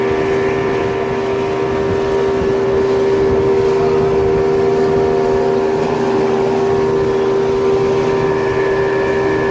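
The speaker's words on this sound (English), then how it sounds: "that's what it sounds like to ride on a boat. Very loud and splashy and windy." A motorboat speeding across the water near San Pedro, Belize, sends a loud, constant engine drone over a wash of wind and splashing, with no pause from start to end.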